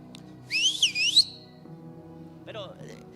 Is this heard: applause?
no